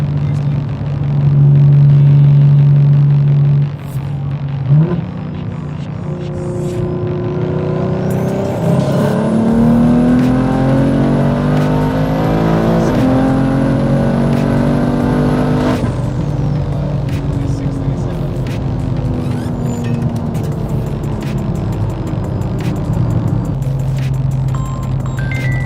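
A race car on fresh slick tires revs and drives, a loud engine roar that climbs in pitch through a long rising sweep, holds high, then drops back to a rumbling idle, close and continuous.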